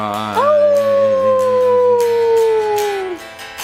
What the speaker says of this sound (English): wolf's cry.